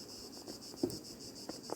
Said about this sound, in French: Ah, il fait chaud, je vous le dis. Hein. On entend les cigales.